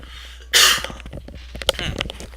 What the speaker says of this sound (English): I got a cough for just a sec.